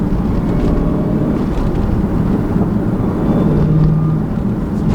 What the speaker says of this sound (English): Can you hear that blower noise?